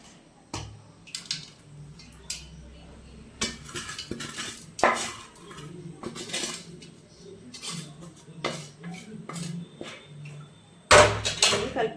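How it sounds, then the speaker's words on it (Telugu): Chicken pickle being mixed in a metal pot, with repeated clanks and scrapes of a spoon against the pot and softer wet stirring in between, close and fairly loud. "దీన్ని ఇప్పుడు పచ్చడిలో కలుపుతాను."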